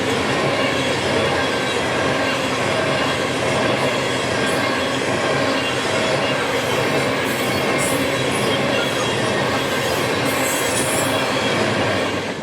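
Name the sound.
CN ET44AC locomotive freight train passing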